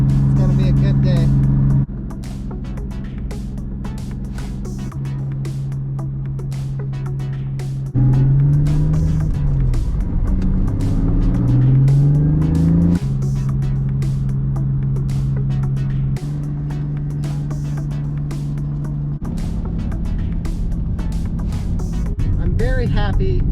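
Car engine revving hard while drifting on worn-out tires, a steady loud drone with rising and falling pitch sweeps mid-way as the revs climb and drop, with a transmission of uncertain history.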